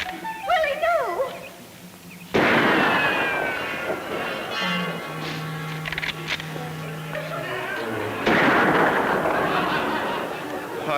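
Two sharp, loud bangs go off several seconds apart, fired at a rabbit during a picnic in a comedy TV episode, with people talking over and between them.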